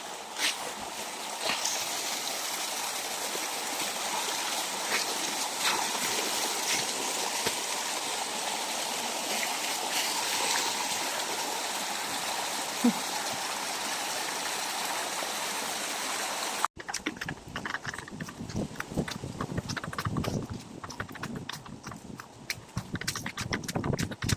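Water rushes steadily down a rocky mountain trail on the Mt. San Isidro circuit, a continuous close hiss and gurgle like a stream, shifting to a choppier, splashier sound toward the end as footsteps move through it.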